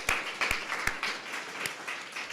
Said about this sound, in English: So give yourselves like a big round of applause for just making it.